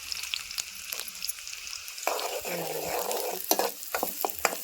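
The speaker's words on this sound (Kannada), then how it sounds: "ಒಂದು ಸ್ವಲ್ಪ ಉಳ್ಳಾಗಡ್ಡಿ ಎಲ್ಲ ಫ್ರೈ ಆಗಿದೆ" Chopped onions frying in a pan after mustard seeds have popped, a steady sizzle broken by scraping stirs and sharp clinks of the spoon against the pan.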